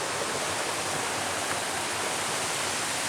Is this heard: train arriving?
no